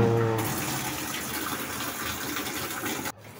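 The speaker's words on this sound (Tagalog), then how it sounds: "may naririnig na tayong pumapatak na tubig" Water streams and patters inside a Maytag washing machine as it fills, making a steady close gush that runs for several seconds before cutting off abruptly.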